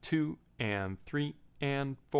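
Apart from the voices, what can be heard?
No everyday noises stand out.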